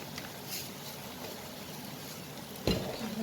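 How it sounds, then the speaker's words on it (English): Punjabi mixed dhal fries gently in oil, giving a soft, steady sizzle and bubbling with faint stirring, then a louder scrape and burst of hiss near the end. "Now I will let it fry till the oil on the surface it's out"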